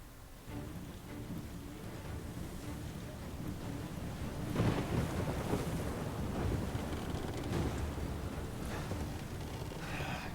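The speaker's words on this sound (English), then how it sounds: "Nathan Drake's on a boat" Boat out on the sea in Uncharted 4: A Thief's End, a continuous loud rush of wind, waves and spray with a rumbling low end and a surge about midway, with no voices.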